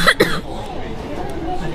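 A short burst of coughing or throat clearing opens the clip, close and fairly loud, then fades into low, muffled background noise.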